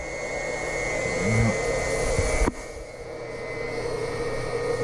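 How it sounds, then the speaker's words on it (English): A bleeder valve on a radiant heating system vents air with a constant hiss while the loop fills with glycol, broken by a brief knock midway before the rushing continues slightly quieter. "I hear that bleeder up there venting,"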